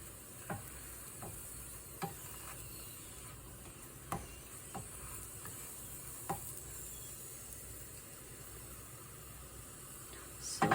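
Corn flour roti cooking on a pan, a faint steady sizzle with scattered soft ticks and taps from handling, ending in a brief louder clatter.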